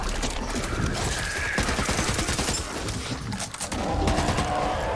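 Heavy gunfire in the zombie shooter Back 4 Blood, dense rapid bursts of shots rattling continuously at close range, with some mechanical clatter mixed in.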